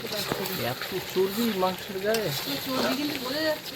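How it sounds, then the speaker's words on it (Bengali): Goat meat sizzling and frying in oil in a pan, a steady close crackle running throughout beneath ongoing conversation between people. "এইবারে মাংসটাকে ভেজে ভেজে ভালো করে একটু কষিয়ে"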